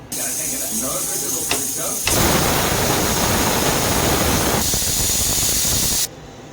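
A loud, steady hiss of steam venting from a pressure cooker after cooking mutton and potato curry, swelling into a harsher rushing burst midway before easing back and cutting off.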